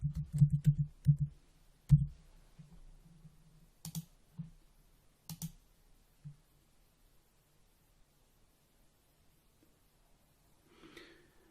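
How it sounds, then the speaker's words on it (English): An email address is typed on a computer keyboard: a few quick, quiet key clicks come in clusters, then thin out into silence. "So I'm just going to stick in an email address here"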